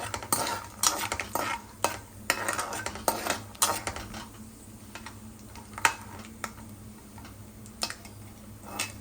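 Peanuts fry in a pan with irregular spatula scrapes and metal clinks over a soft sizzle. The stirring comes in close bursts, busier at first and sparser later, with no speech.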